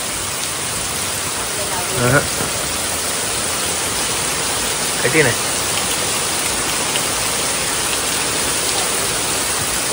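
Steady rain pours down continuously, a dense even hiss throughout, with a couple of brief spoken words rising above it.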